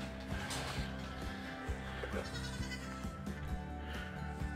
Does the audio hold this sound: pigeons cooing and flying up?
no